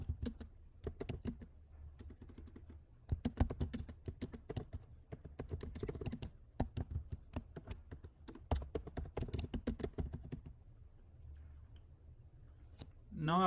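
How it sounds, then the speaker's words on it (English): A query is typed on a computer keyboard in quick, irregular bursts of close key clicks with short pauses, ending in a brief louder sound. "So let's type our query."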